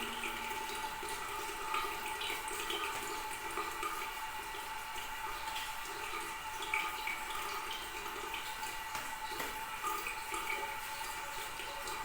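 Tap water running steadily into a sink during careful medical handwashing, a continuous even splashing hiss with no talking.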